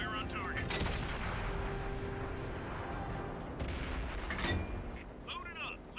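Tank cannon fire in World of Tanks, loud heavy booms over a constant engine rumble, with crew chatter on the radio in between.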